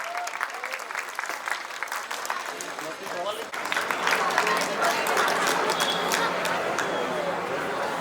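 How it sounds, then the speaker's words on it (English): Applause from a large crowd at the opening day of a Model United Nations conference at a school, dense clapping that swells and grows louder midway, with some chatter mixed in. "Please welcome her with a huge round of applause."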